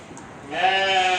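A ewe being fattened in a feeding pen lets out a single drawn-out bleat, fairly close and clear, after a brief quiet moment.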